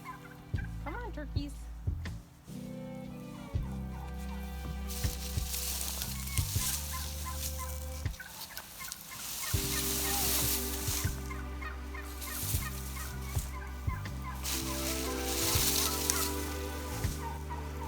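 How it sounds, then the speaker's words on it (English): Turkeys gobbling outdoors on a homestead in late autumn, repeated loud gobbles from a flock at close range, overlapping in bursts throughout with a brief lull midway. "Turkeys."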